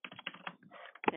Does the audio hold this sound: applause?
no